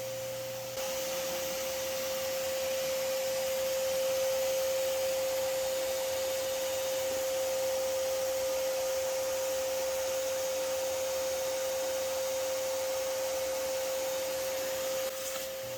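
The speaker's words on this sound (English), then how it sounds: "so you guys can get a little better idea as to how much it goes into just sitting here and vacuuming up wasps" A vacuum drones steadily for the whole stretch while sucking up yellow jacket wasps from a nest infesting a house, loud and unbroken, with a constant whining tone and a brief shift at the start.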